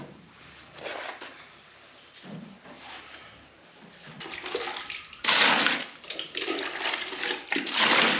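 A broom stirs a container of calves' milk on a snowy farm, giving wet sloshing and swishing strokes that grow louder and more vigorous toward the end.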